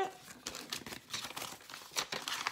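A paper envelope of diamond painting beads being handled, giving close crinkling and rustling in quick irregular bursts.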